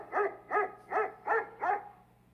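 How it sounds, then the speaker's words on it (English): A Google Home smart speaker plays a recorded dog bark: five evenly spaced woofs in a steady rhythm, moderately loud with a slightly tinny, reproduced quality, and no one speaking over them. "Hey, Google, bark like a dog."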